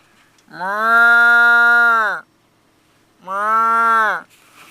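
Two drawn-out cow moos, each lasting over a second and separated by a short quiet gap, loud and close with no other sounds.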